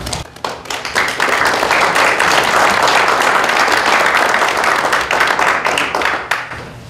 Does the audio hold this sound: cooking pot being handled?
no